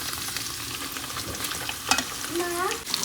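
Spice masala for a paneer curry sautés in a pan, a soft steady sizzle broken by the scrape and clink of a spoon stirring, close and alone.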